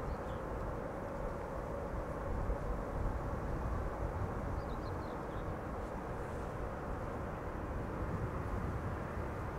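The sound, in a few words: airliner taxiing at airport after landing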